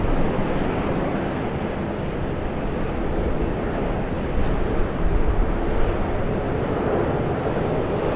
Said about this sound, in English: It is time for our Vietnam Airlines Airbus